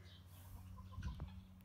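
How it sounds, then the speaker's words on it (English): Free-ranging chickens on a farm give a few soft, short clucks over a low background hum, faint and brief. "Oh, there's a handful of the chickens."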